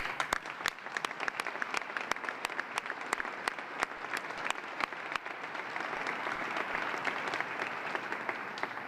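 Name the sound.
audience applause at a marathon wreath ceremony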